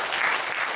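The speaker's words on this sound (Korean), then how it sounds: "박수 한번 쳐주세요." Applause from a church congregation during a Sunday worship service, a brief burst of many hands clapping steadily at close range with no voices.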